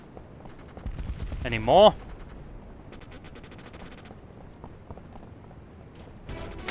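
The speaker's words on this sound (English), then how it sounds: "We're taking heavy fire." Gunfire in the PlayStation 2 shooter SOCOM US Navy Seals II, a short burst of shots around the two-second mark followed by quieter combat noise, with a player speaking briefly over it.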